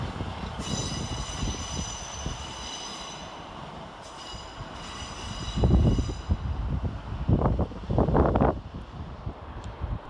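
Northern Rail passenger train at Leeds railway station, a broadband rumble of wheels and engine with high squealing tones near the start, then louder clattering bursts of rolling stock toward the end.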